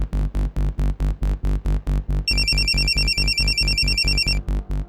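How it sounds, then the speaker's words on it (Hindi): A phone ringback tone pulses in a steady repeating rhythm, joined midway by a higher electronic warbling tone; loud and close, with no talking. "फोन लगाइए अपने बेटे को।"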